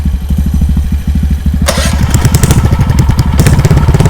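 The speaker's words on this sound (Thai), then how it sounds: "สตาร์ทคันที่สองนะครับ บิดกุญแจครับสตาร์ท" A mini bike with an aftermarket exhaust idles with a steady low putter, then is revved up sharply, its raw, loud engine note rising and pulsing over the chugging base.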